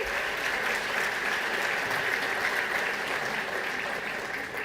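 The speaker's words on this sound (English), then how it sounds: "I'll let everybody applaud for God of War" Audience applauding steadily for God of War Ragnarok, a dense, even clatter of many hands held at one level for the full stretch with no voices breaking through.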